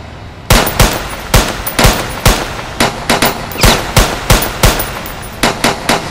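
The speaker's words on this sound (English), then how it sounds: "There, they're shooting at us!" Rapid bursts of gunfire from people shooting during a firefight, loud sharp cracks in irregular clusters of quick shots close by, one after another for several seconds with no talking.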